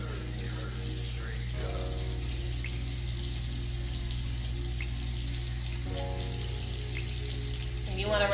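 Tap water runs steadily into a sink while a makeup brush is rinsed clean of soap, a constant close splashing hiss that carries on without a break.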